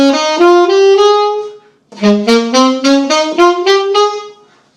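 A saxophone plays a smooth slurred scale, the notes gliding into each other, then a second run with gently separated notes; close, clear and fairly loud.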